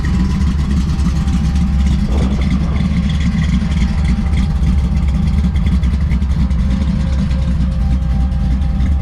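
A 408 stroker V8 in a 1979 Ford F100 idles steadily with uncapped headers, a loud, close, rumbling low-pitched burble that holds constant throughout without talk.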